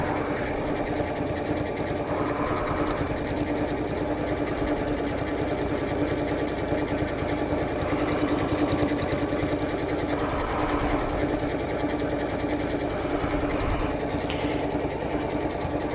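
A sewing machine runs continuously while stitching around a fabric table mat, a steady close mechanical whir and rapid needle chatter with slight changes in pace.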